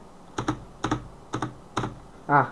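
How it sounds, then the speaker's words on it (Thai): Four crisp double-clicking spacebar presses on a Razeak Hunter RK-X16 mechanical keyboard in an even rhythm, close and fairly quiet, followed by a brief louder thock at the end. "อันนี้ จะเป็นตัวสเปซบาร์ของตัวลาซิกนะครับ นี่จะฟังฟังนะครับผม"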